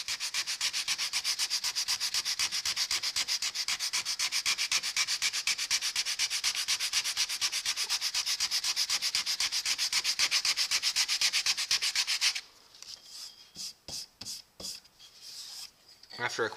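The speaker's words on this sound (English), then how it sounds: "let's give this a quick sanding." Rapid back-and-forth sanding of wood with sandpaper scrapes steadily for about twelve seconds, close and loud, then a few slower, separate strokes follow before it stops.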